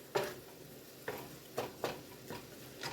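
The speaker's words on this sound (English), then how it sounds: "Give that a mix around before we add our tomato sauce into the pan." Browned ground turkey with taco seasoning being stirred in a pan, with a soft sizzle and a handful of scraping spoon strokes at an uneven pace, close by and with no talk.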